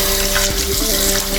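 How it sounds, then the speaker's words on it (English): Tap water runs steadily over fresh rosemary in a kitchen sink during brine prep for rum and Coke pulled pork, a continuous close rushing splash with no talking. "you just want to rinse off the rosemary"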